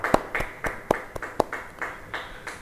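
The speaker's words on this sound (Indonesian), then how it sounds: "Yang mau beri tepuk tangan bagi dia." Scattered hand claps from a church congregation during a Bible study service, about ten distinct claps in an uneven rhythm that thins and softens toward the end.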